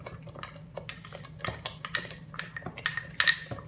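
A spoon clinks and taps irregularly against a dish while red chili and turmeric powders are stirred together for kadhai paneer, a string of sharp metallic ticks growing busier toward the end.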